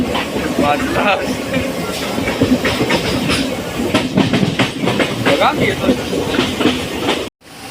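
A suburban train on the Virar to Panvel run nearing Kalamboli station rumbles and clacks over the rails, loud and continuous throughout, with someone talking over the noise.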